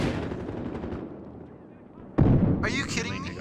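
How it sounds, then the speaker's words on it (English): Gunfire and a grenade blast sound in the video game Battlefield Hardline: loud firing fades, then a sudden sharp explosion hits near the middle, and a voice talks over the noise afterward. "I threw a grenade at him and he didn't die."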